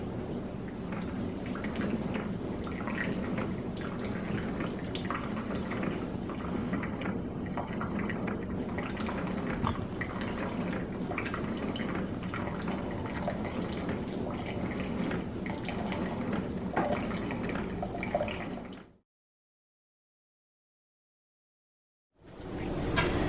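A coffee maker runs a full reservoir of water through: steady trickling and dripping for about nineteen seconds, a continuous brewing patter at close range, then stops abruptly; a brief burst of sound returns at the end.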